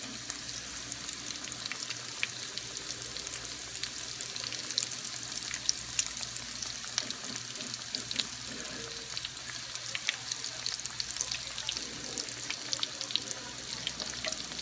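Jalapeño mozzarella sticks frying in oil on medium-high heat, a steady dense sizzle and crackle with small pops running throughout, no voices.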